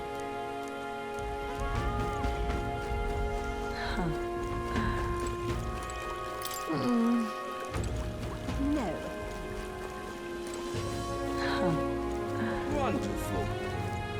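Steady rain patters continuously over layered game music in Metaphor: ReFantazio, with a voice briefly speaking over it.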